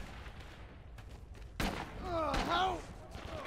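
G43 rifle fire in a WW2 shooter game, a few sharp single shots and a louder crack amid background battle noise, with a voice briefly heard over it.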